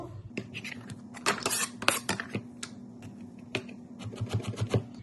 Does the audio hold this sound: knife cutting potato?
yes